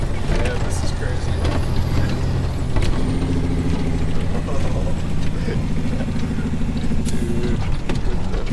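A 1996 Freightliner FLD120 semi truck with a 500-horsepower tune running at full speed, heard from inside the cab as a loud, steady low engine drone with rattles and clunks, while people talk over it.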